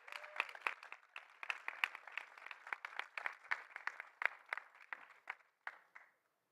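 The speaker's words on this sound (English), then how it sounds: "So you give him a round of applause." Applause at the IRENA NewGen Rising Stars Award for a third-place winner: a modest group clapping, distinct sharp claps at an uneven rhythm that thin out and stop near the end.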